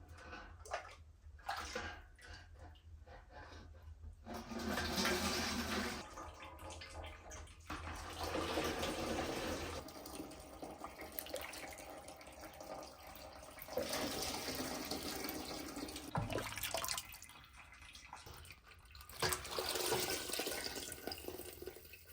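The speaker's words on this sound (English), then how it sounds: "So I'm going to go ahead and start filling up my jars." Boiled maple sap poured into jars for pressure canning at an off-grid cabin, a steady splashing, running-water rush in several long pours with brief pauses between them, close by and fairly loud.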